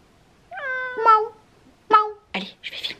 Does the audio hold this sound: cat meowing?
yes